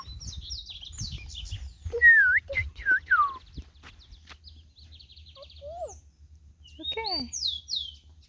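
Several clear bird calls, chirpy whistled notes rising and falling, come in bursts over a low steady hum in a forest near a reservoir in Brazil, with a brief voice at the end.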